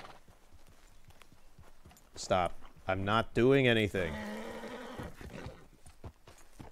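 Horse hoofbeats and a loud, wavering whinny from a horse in the video game Red Dead Redemption II, with a person talking briefly over the sounds.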